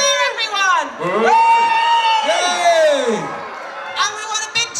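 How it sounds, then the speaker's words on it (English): Crowd cheering and whooping at the Folkestone Christmas light switch-on, a loud, sustained outdoor roar with high children's shouts rising and falling over several seconds, then a fresh burst near the end. "Nicola King, big cheer, everyone!"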